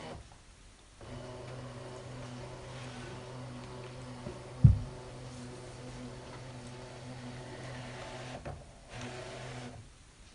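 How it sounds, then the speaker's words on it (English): A ScanNCut cutting machine scans a stamped card, giving a steady low mechanical hum and whir for about eight seconds. A single sharp click lands midway, and the sound stops with a soft clunk near the end. "I'm going to let the machine scan the card through and see what it recognises"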